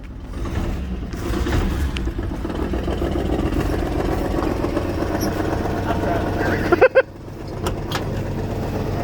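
A Dodge D150 pickup truck engine idling in a yard, a steady low rumble running throughout with a few sharp clunks near the end, close up, with people talking around it.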